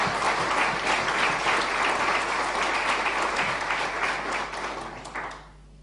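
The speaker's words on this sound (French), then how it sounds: "Et je crois que ça mérite un applaudissement." Sustained applause from a press conference audience at the Rallye de l'Indre, dense steady clapping that carries on for several seconds before tapering off at the end.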